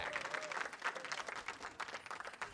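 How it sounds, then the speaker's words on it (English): Steady applause from a large crowd in an esports arena at a League of Legends match, dense clapping sustained throughout with a faint voice or tone drifting in near the start. "Give a round of applause to yourself in the Riot Games arena"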